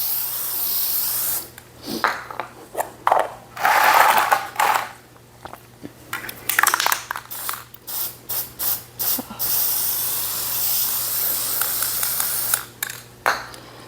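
A spray paint can with a clogged tip hisses in repeated bursts of varying length, with short pauses and a few clicks between sprays.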